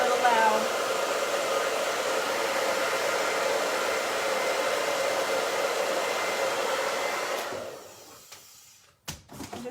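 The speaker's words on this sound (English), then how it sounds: "I'm gonna run the blow dryer over this really quick" A hair dryer blows with a steady loud whoosh over a wooden ornament for most of the clip, then switches off, followed by a few short clicks and knocks.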